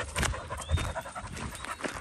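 A puppy on a lead pants in quick, rhythmic breaths close by, with a little whimpering and light rustling and no speech.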